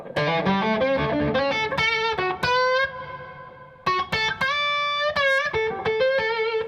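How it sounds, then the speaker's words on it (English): Plate reverb from a Universal Audio EMT 140 emulation, modelled on the Sunset Sound plate, washes over a loud sustained electric guitar line with distorted, ringing chords and a smooth vintage tail, played alone without talk. "that is the Universal Audio EMT 140, which of course is the model of the plate reverb that was in Sunset Sound."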